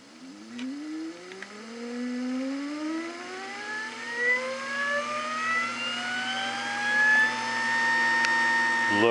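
An antique Logan lathe driven by a salvaged treadmill motor spins up, its steady whine climbing smoothly in pitch over several seconds and holding a close, continuous mechanical hum with no talking.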